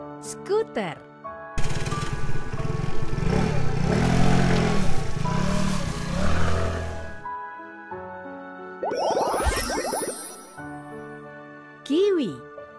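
A buzzy scooter engine in a children's educational video game hums and revs for several seconds among bright electronic sound effects, with a short spoken word in between.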